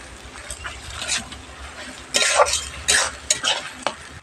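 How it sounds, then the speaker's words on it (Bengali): Duck meat with salt being stirred and fried in hot oil, with a steady sizzle and bursts of scraping and clanking from a spoon against the pan, close and loud. "স্বাদ মতো লবণ ভালোভাবে এ তেলের সঙ্গে একটু ভালোভাবে মিক্স মিক্স করে নিয়ে কষিয়ে নিতে হবে"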